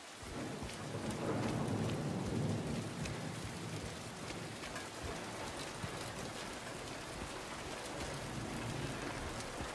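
Heavy rain pours steadily on a foggy rooftop in Silent Hill 2 Remake, a dense constant hiss with low rumbling underneath, no voices.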